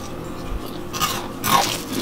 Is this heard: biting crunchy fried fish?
yes